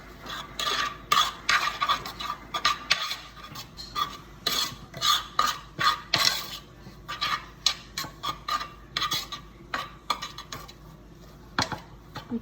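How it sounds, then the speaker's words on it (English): A teaspoon stirs sugar and salt into a yeast starter mixture in a bowl, making steady rhythmic scraping and clinking strokes, close and clear, that carry on for several seconds without talk. "So here's our teaspoon of sugar and our teaspoon of salt. I'm gonna go ahead and mix that."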